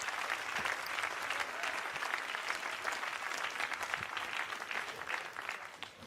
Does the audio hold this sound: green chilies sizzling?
no